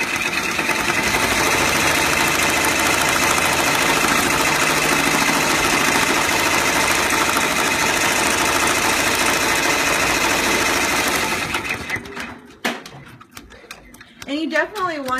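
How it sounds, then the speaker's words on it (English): Embroidery machine running a placement stitch onto stabilizer for a vinyl snap tab, a steady dense mechanical whir that holds loud and constant for about eleven seconds, then stops, leaving quieter handling noises. "run your placement stitch right on your stabilizer"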